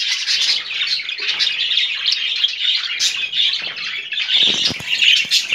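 Several budgerigars in a breeding cage chirp and squawk continuously, close and lively, with overlapping bright calls and occasional fluttering and rustling.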